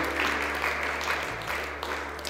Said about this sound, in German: wenn wir ihnen einen Applaus geben